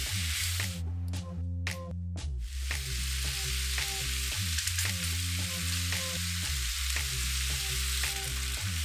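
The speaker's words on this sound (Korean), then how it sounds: "마늘의 향이 올라오면 양송이 버섯을 넣고 토마토 케첩 4큰술을 넣고 잘 섞어요." Button mushrooms with garlic and tomato ketchup sizzle loudly in a hot pan, with a steady frying hiss broken by repeated scraping stirs in a regular rhythm and a low hum underneath.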